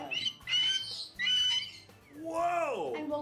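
A cockatoo squawks loudly and close by in an enclosed room at an eco station, several harsh raspy calls in quick succession ending in a long drawn-out screech, with people talking around it.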